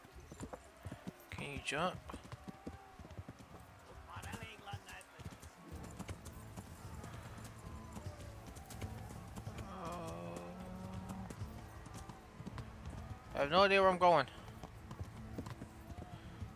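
Horse hooves clip-clopping at a run in the video game Kingdom Come Deliverance, a steady rhythmic beat under near, continuous talk, with a brief whinny-like burst near the end.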